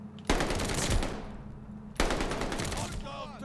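Rapid automatic gunfire in the Call of Duty Vanguard video game: two loud, sustained bursts of machine-gun fire, the second cutting in after a brief pause, close and dominant with a voice faintly underneath near the end.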